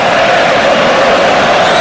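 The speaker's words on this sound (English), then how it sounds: "Spanish supporters cheering to the left." Spanish football supporters cheering inside a stadium during a France vs Spain match, heard as a steady, loud crowd roar that holds without a break.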